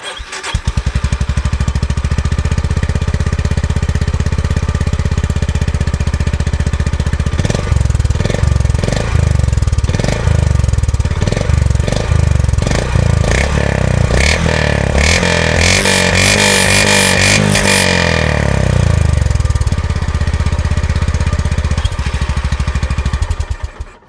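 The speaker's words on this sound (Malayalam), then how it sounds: "നമുക്ക് ഇവനൊന്ന് സ്റ്റാർട്ട് ചെയ്തിട്ട് എക്സോസ് നോട്ട് നോക്കിയാലോ വാ കേൾപ്പിച്ച് തരാം" A Honda CB 350 motorcycle engine idling close by, a loud steady thumping exhaust note that rises and stutters with throttle blips midway before settling back to idle, with no talk over it.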